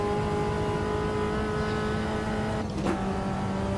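A race car engine on a hotlap in the video game Automobilista 2 holds a steady, close, tonal drone with a brief dip near the end, as if shifting gear.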